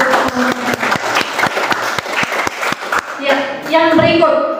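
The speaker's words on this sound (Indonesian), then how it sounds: "Sekali lagi kita kasih aplaus untuk" An audience claps for group 4 after their presentation, a burst of scattered, uneven handclaps close by that thins out as a voice speaks over the end.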